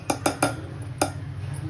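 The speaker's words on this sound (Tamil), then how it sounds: "குழம்பு ரெடி ஆனதுக்கு சும்மா ஊற்றிட்டு நல்லா கலக்கணும்" Mutton kurma gravy stirred in a metal pot, a spoon clinking sharply against the side in three quick knocks and then one more, over a low steady background hum.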